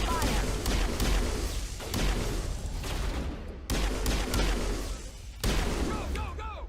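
Gunfire in the sci-fi shooter Mass Effect Legendary Edition, an Alliance Marine squad firing on mercenaries: dense, loud fusillades of rapid shots and booming impacts in several bursts, with voices calling out over the battle.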